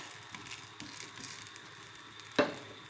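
Raw potato and semolina snack frying in a covered pan over a medium flame, giving a steady close sizzle with one sharp crackle or pop near the end.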